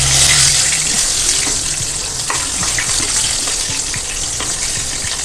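Chicken curry frying in a pan while being stirred: a steady, loud sizzle with scattered scrapes and clinks of the spoon throughout, no talking.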